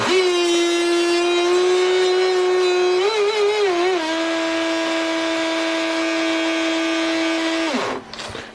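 An RC jet boat motor with a US-made flex shaft kit being broken in: a loud, steady high-pitched whine held close up, wavering briefly in pitch midway, then spinning down and cutting off near the end.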